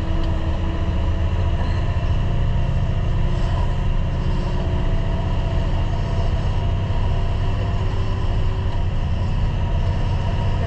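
A Rokbak articulated dump truck in drive, pulling away on concrete, gives a steady, loud diesel drone with rumbling low end that holds through the whole stretch, no voices over it.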